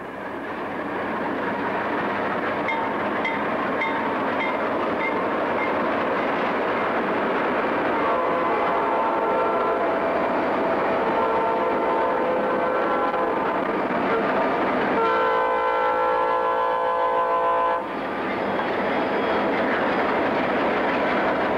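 A diesel train rumbles steadily close by with rail clatter, and a sustained horn blares partway through as it rolls into a station in Florida.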